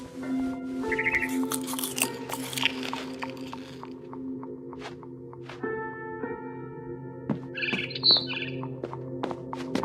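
Barn swallow chirps in the video game What Remains of Edith Finch, short bright bursts repeating over a steady tonal musical backdrop with faint clicks, the calls clustering early and again near the end.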